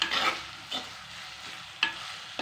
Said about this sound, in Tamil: இப்போ ஒரு 3 டேபிள் ஸ்பூன் கொத்தமல்லி இலையை நல்லா சாப் பண்ணிவிட்டு அதையும் போட்டு நல்லா வதக்கி விட்டுறலாம்